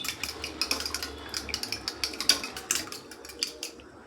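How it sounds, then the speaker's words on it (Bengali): Two eggs with salt are beaten in a bowl with a metal utensil, producing rapid, rhythmic clinking strokes against the bowl with soft liquid slaps, close and fairly quiet, without talking. "দিয়ে দেবো নুন, দিয়ে ভালো করে ফেটিয়ে নেব।"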